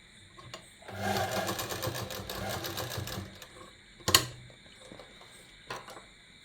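Sewing machine stitching a gents kurta pajama, a close rapid mechanical chatter for about two seconds, then quieter clicks and a sharp knock as the work stops.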